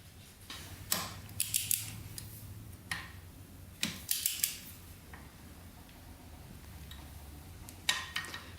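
Ratcheting clicks from a torque wrench tightening quad cylinder head bolts in a crisscross pattern to 33.5 foot-pounds, heard as short clustered bursts of close, crisp clicks separated by quiet pauses.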